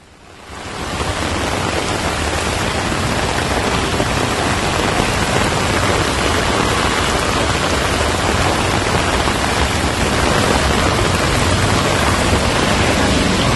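Heavy monsoon rain pours in Telangana and Andhra Pradesh, a dense, loud, unbroken hiss of downpour that swells in within the first second and holds steady throughout.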